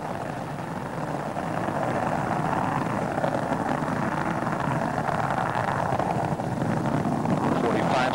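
Space Shuttle Endeavour's three liquid-fuel main engines roaring during launch as they throttle back toward the sound barrier, a broad, steady, distant rumble with wind buffeting that holds for the whole stretch.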